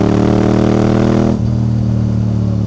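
A Yamaha R7 sport motorcycle with a quickshifter accelerates hard on the road. Its engine drones loudly and steadily, dips briefly at a clean gear change, then carries on pulling strongly without any talking.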